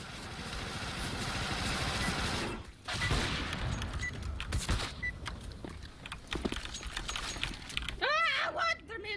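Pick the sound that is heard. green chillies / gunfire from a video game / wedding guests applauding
gunfire from a video game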